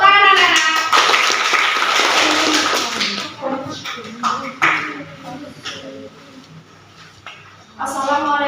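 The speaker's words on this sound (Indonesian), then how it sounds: "Tepuk tangan anak-anak." Schoolchildren in a classroom clap together in a loud burst of a few seconds, then scattered taps and claps follow, with young voices calling out at the start and end.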